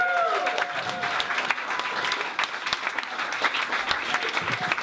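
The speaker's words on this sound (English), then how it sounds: "Please clap your hands for Will Green, everybody." Applause from a comedy club audience welcoming a stand-up comedian, a continuous crowd clapping for about five seconds, with a brief voice at the very start.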